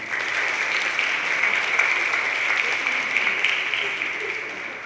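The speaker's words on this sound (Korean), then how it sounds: "박수로 환영해 주시고" Audience applause welcoming a speaker at a peace forum in Jeju, steady even clapping throughout with faint voices underneath.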